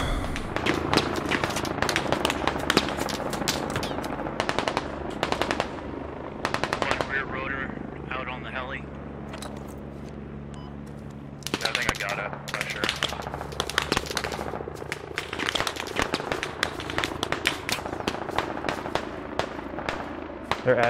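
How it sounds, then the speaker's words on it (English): Gunfire in the military shooter game Squad: sharp bursts of rifle and machine-gun fire, some near and loud, others distant, cracking in irregular clusters over a low rumble, with voices talking over the shooting. "Shots northwest. Tracer coming out of 300."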